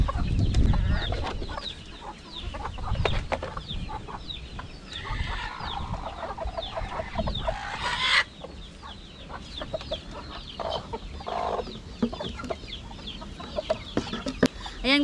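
Chickens clucking nearby with occasional crowing and rustling, scattered calls continuing throughout amid faint background voices.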